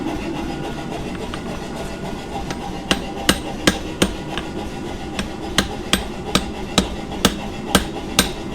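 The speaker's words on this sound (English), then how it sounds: "how much fine control you can have with a hammer when you're forging" Sharp, regular hammer strikes ring out while a bladesmith forges a blade in the shop, about a dozen close, evenly spaced blows over a steady low background hum.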